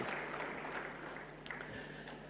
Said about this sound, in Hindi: उनको भी अगर हम एक बार आप सब ताली बजा के पहचाने तो बहुत अच्छी बात होगी